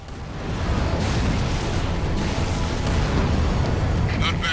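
Explosion in Halo: The Master Chief Collection: a sustained, loud rumbling blast with heavy low-end roar that holds for several seconds, with a voice speaking over it.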